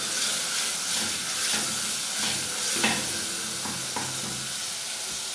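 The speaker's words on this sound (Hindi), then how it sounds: "तो मसाले को 1 से 2 मिनट के लिए व्यूअर्स भून लेंगे।" Masala with whole cumin seeds fries in a pan for chana pulao, giving a steady, close sizzle and hiss broken by scraping stirs, with no one speaking.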